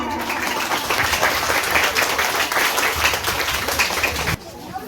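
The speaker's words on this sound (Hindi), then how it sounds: "जोरदार से ताली से स्वागत करें कामनी मैम का" Loud, sustained clapping from a crowd of parents, children and teachers greets a speaker at a Republic Day celebration in a kids' coaching centre, then cuts off abruptly near the end.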